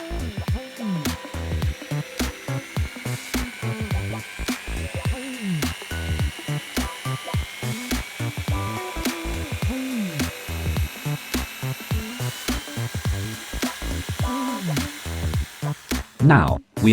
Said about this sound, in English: Printed cogs are tested on the drill.